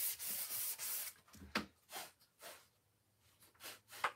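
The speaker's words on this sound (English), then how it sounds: "So once I have it sanded" Hand sanding a wooden sign: a run of rough, rasping strokes, close and fairly loud, in an uneven rhythm with short pauses between passes.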